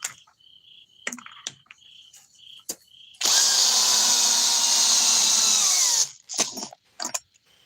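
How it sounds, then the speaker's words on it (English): A Kreg cordless drill driver runs steadily for about three seconds, its motor whine loud and close, set between scattered light clicks and taps. "here's the new Kreg drill driver"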